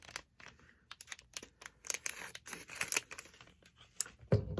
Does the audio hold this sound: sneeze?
no